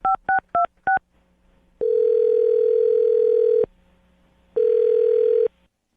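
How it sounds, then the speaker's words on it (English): A telephone call being placed: four quick touch-tone dial beeps, then two long ringback tones separated by a pause, clean and close with no talking. "I'm going to dial his phone number right now."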